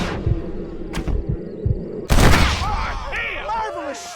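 Gunfire in the Western video game Red Dead Redemption: a few sharp separate shots, then a loud blast followed by a burst of rapid fire, with voices shouting over the shooting.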